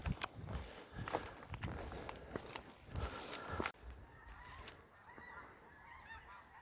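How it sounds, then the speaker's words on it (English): Geese honk several times along a hiking trail near a lake in a Kansas state park, sharp calls over crunching footsteps in the first half, then quieter walking. "And I hear the geese"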